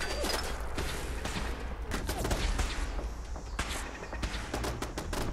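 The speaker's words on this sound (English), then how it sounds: "I don't even know who's shooting me anymore" Rapid gunfire crackles from several directions in Fallout 4 VR, with sharp overlapping shots and bursts aimed at the player, loud and dense over a low rumbling background with occasional footsteps.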